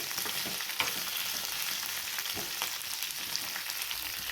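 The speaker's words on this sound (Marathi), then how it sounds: "भेंडी आपल्याला ही चांगली तेलामध्ये भाजून घ्यायची आहे" Okra frying in oil, a soft continuous sizzle with scattered pops and occasional stirring knocks, fairly quiet and heard alone.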